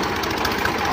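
A tractor engine runs steadily at close range while hooked up to a trailer being jacked, a continuous dense mechanical drone with slight rough knocking and no talk over it.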